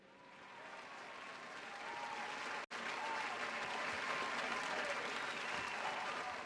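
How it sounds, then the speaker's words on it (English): Artificial crowd noise effect of the kind piped into Premier League and rugby broadcasts, a continuous stadium-like roar with clapping texture that swells gradually, cuts out for an instant, then resumes at full level. "The fake crowd noises you've heard when you watch the Premier League or the rugby"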